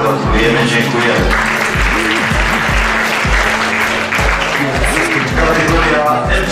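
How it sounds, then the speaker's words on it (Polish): Sustained applause from a crowd at an award ceremony after the VII Chursotwski winter race, held in January, running steadily throughout while an announcer's amplified voice talks over it. "Serdeczne brawa, gratulujemy, dziękujemy."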